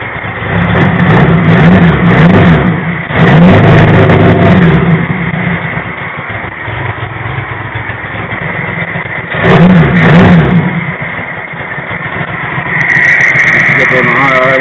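A single-carburetor Honda GL1000 motorcycle engine runs steadily close by on a hot, humid Iowa day, rising in pitch in a few brief revs while people talk over it.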